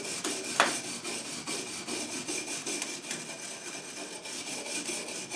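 A small cheap steel wire brush scrubs metal transfer case parts in a workshop, making steady close scratchy strokes with a few sharper scrapes, heard alone with no talking.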